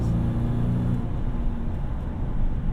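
Manual-swapped Ford Crown Victoria sedan driving, a steady low engine drone and road rumble heard from inside, with a short revving note early on.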